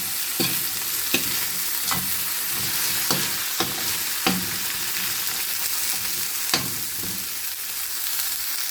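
Shrimp sautéing in a pan, a continuous close sizzle broken by sharp clacks of a utensil striking the pan at irregular intervals, no voices.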